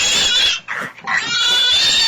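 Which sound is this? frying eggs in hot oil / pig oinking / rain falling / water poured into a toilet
pig oinking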